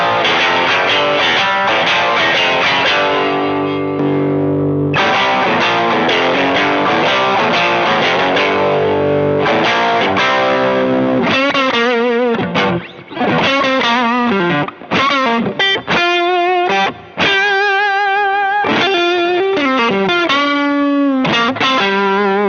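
An electric guitar plays through a Bootlegger overdrive pedal, giving a continuous, loud, compressed and distorted tone, with sustained chords at first and then faster single-note lines, and no talking.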